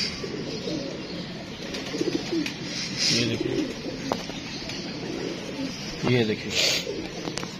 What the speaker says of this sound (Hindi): वो कबूतर है